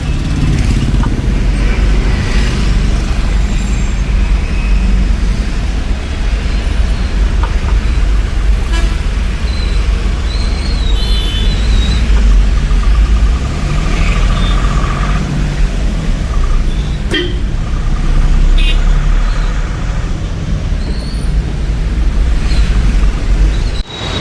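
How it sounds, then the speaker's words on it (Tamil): Dense, slow-crawling road traffic in Chennai heard from inside a car, with a loud, continuous engine and road rumble throughout and scattered car and motorbike horn toots over it, and no talk. "செம டிராஃபிக்ங்க. ஒன்றுமே பண்ண முடியல. இன்ச்சாக தான் வருது."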